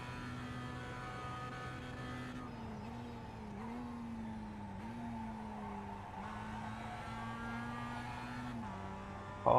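Mazda MX5 engine from a racing video game lapping Zandvoort, a steady droning tone that shifts pitch with each gear change and corner, with brief tyre squeal, continuous and fairly loud, no talking.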